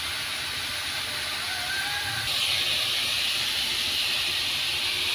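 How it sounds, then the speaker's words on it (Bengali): Ground spices fry in hot oil for a breakfast dish, a steady hissing sizzle heard close that steps up sharply in intensity partway through, with no voices. "আমি এটাকে তেলে দিয়েছি। এটা এখন সুন্দর করে কষিয়ে নেব।"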